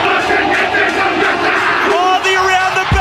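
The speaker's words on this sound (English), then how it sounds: "Fantastic to see the full crowd, to hear the noise." A packed stadium crowd roars and cheers throughout a rugby sevens match at the Mercantile tournament final, a dense continuous wall of yelling and whooping with a whistle-like tone near the end.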